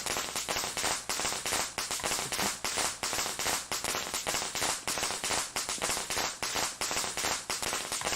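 Rapid strings of sharp firecracker pops in the horror video game Shadow Corridor crackle continuously and loudly, densely packed with no pauses, over a harsh noisy background.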